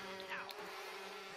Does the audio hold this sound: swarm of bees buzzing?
yes